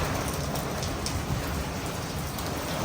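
Heavy rain pours down steadily in a village, a dense, constant hiss of drops hammering surfaces close by with no let-up.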